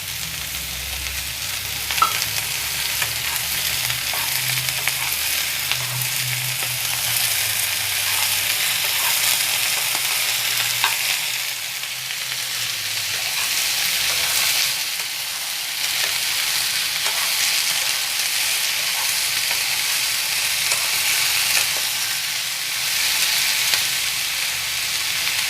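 Mixed vegetables with peas frying in a pan make a steady, loud sizzle that runs unbroken for the whole stretch, with faint stirring taps and no speech.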